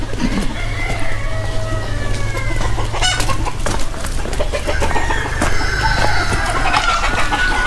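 Egg-laying hens and roosters on a village poultry farm of about 3000 birds cluck and chatter continuously up close, with crowing and a low background hum throughout.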